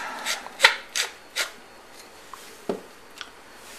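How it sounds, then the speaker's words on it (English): Freshly ground black pepper going into a dipping sauce, a few short dry gritty rasps and rubs, close and quiet, spaced irregularly with pauses between, no voices. "And a little bit of freshly ground black pepper."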